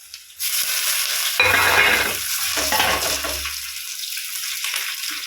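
Garlic, shallots, dried red chillies and curry leaves hit hot oil and burst into a loud, close sizzle that settles into a steady frying hiss, with no voices.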